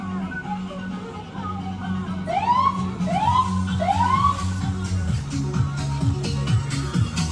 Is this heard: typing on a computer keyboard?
no